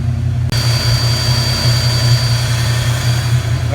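A Ford Foxbody Mustang engine idles steadily while warming up, a loud, close, even low rumble with a constant droning hum and no voices.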